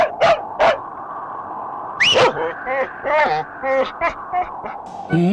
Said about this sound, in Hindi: एक कुत्ता भौंक रहा है।